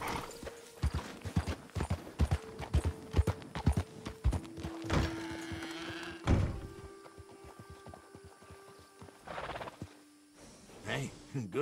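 Rhythmic hoof clops from a Tiger Striped Bay Mustang in Red Dead Redemption 2 on a hard surface, close and regular, mixed with thuds and a sustained tonal hum, with some voice sounds in the background.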